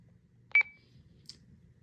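A single short electronic beep from a Mountain Lab scout two-way radio button, fairly quiet against a low background hum, followed by a faint tiny click.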